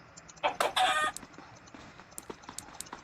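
Short burst of video-game chicken clucking in Minecraft (DiamondFire) with a quick squawk near the start, followed by scattered faint clicks and pecking sounds.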